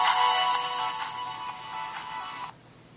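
Music plays through the small built-in speaker of an HTC One X phone, a bright, thin, fairly loud stretch of tune heard alone that stops abruptly near the end, leaving quiet.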